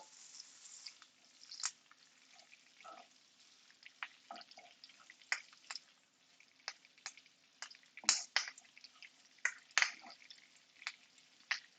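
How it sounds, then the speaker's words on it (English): Butter infused with rosemary and thyme sizzling in a hot pan, giving scattered sharp pops and crackles over a faint steady hiss, fairly quiet with no talking. "Hear a little bit of the pops, the cracks."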